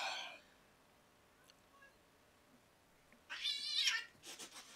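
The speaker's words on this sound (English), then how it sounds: "Quit it, cats." Cats outdoors during a snowstorm yowl and meow in short, sharp bursts, faint at first, then a louder fighting screech near the end over a quiet background.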